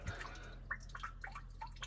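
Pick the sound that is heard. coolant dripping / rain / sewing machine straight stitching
coolant dripping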